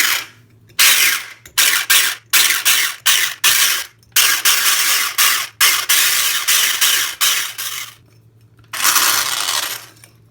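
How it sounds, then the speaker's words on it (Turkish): Electric hand mixer whirs through soufflé batter of eggs and sugar in bursts, starting and stopping repeatedly with short pauses, loud and close, with no voices. "Ve bir mikser yardımıyla karıştırıyoruz."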